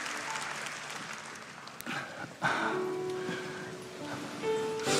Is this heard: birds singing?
no